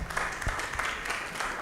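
Audience applause after a presentation at an academic event, a dense wash of clapping heard briefly and fairly loud throughout.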